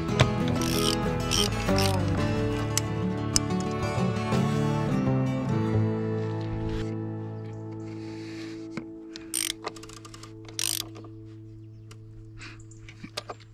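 A ratchet with a 36 mm socket works loose the oil filter on an old Mercedes, giving a few short clicking bursts up close after a steady humming drone fades away.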